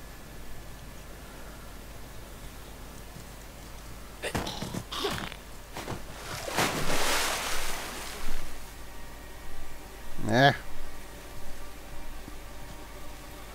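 Splashing through water in the video game Uncharted: The Lost Legacy comes as a few brief wet sloshes and splashes over quiet ambient background, with a sharper burst near the end.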